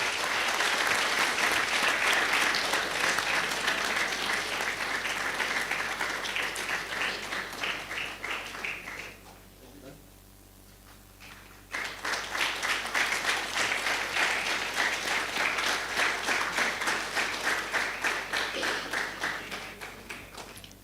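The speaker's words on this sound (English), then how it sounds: "Come on, guys, keep the claps going." An audience at a TEDx salon event applauds steadily in a dense wash of clapping, breaking off to near silence for a couple of seconds midway before the applause swells back up and carries on to the end.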